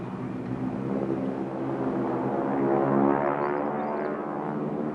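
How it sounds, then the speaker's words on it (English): A Harvard propeller aircraft flies past at an airshow, its steady droning engine rising to a peak and easing off, heard from a distance. "Nothing quite makes a sound like a Harvard, unless it is another Harvard."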